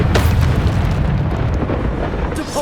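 A Bombarda spell explosion in the video game Hogwarts Legacy, heard as a loud, close, roaring blast that rumbles on for a couple of seconds with crackling bursts.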